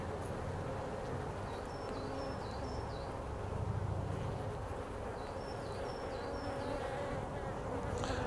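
Honey bees in a Maisemore poly nucleus colony hive humming in a dense, continuous buzz, close and steady throughout with no one speaking.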